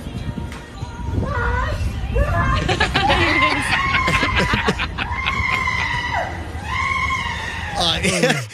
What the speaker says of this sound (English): go back to the grandma's initial scream.